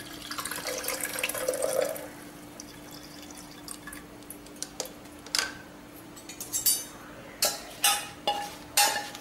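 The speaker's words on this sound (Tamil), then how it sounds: "தண்ணியை வடிகட்டிக்குவோம்." Cooled herbal water for masala buttermilk strained in a kitchen, giving scattered drips and small splashes that grow into a run of sharp, distinct drops near the end, close by with no talk.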